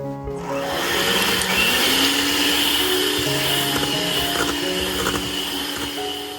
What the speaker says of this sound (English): The egg whites do take a little bit of time to beat.